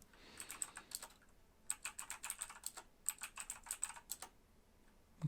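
Rapid bursts of keystrokes on a computer keyboard while a user password is entered, clicking in uneven clusters with short pauses between runs, close and fairly quiet with no talking.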